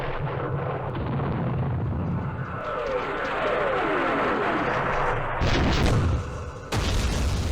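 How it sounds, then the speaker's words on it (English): Aircraft machine gun fire in an Operation Starlite wargame, a low rumbling roar with booming impacts and rapid rattling bursts, a louder blast near the end, fairly distant and continuous. "That's aircraft machine gun. And another machine gun."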